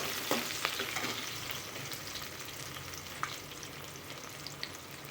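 Chopped onions stir-frying in a pan for tomato rice, a constant close hiss of oil with a few sharp pops and stirring scrapes, no voices.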